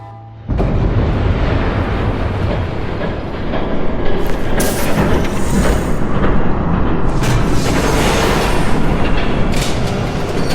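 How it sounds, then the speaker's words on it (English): A train thunders past in the Batman Telltale Series video game, starting suddenly as a loud, continuous rumble with heavy low-end roar and bursts of rattling and clanking that last about ten seconds. "There's a train coming."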